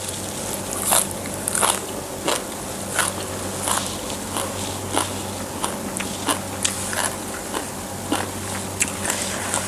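Someone bites and chews raw green papaya salad (som tam) served with fermented fish sauce. Crisp crunches repeat at a steady rhythm close to the mic over a constant low background hum, with no speech.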